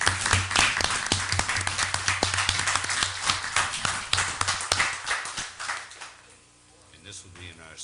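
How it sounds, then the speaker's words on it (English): Round of applause at a board of selectmen meeting, several seconds of dense, moderately loud clapping from a roomful of people that tapers off, followed by quieter room sound with a voice speaking. "So, to Mrs. Lackey, a round of applause."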